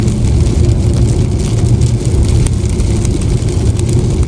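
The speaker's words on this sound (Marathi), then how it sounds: "आणि पाऊस खूप जोराचा स्टार्ट झालेला आहे" Heavy rain pours in a loud, dense, unbroken roar with a strong low rumble, steady from start to finish and with no voices over it.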